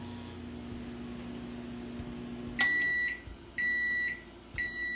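An Amazon Basics microwave hums steadily, then a sharp close beep sounds and further electronic beep tones follow in short bursts, with no talking.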